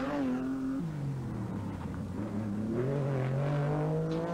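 A Group A rally car at the 1985 Circuit of Ireland roars through at speed, engine note dropping at a gear change and then climbing again as it accelerates away, loud and close.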